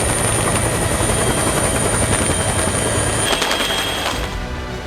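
Army rescue helicopters flying over a cyclone flood zone, a loud, continuous rotor thrum and turbine whine that holds steady and then eases slightly at the end, with no voices.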